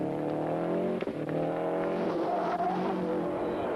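A Subaru rally car on the final special stage of the 1995 Catalunya Costa Brava Rally, its engine roaring loud and close without a break, with a brief dip near the one-second mark and no talk.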